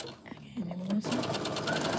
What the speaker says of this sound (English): And then we're gonna sew.